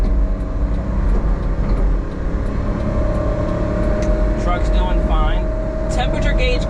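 An automatic kei truck with a 3-speed gearbox cruises at 50 km/h, its engine and road noise forming a steady low rumble throughout, with a voice speaking over it for most of the stretch.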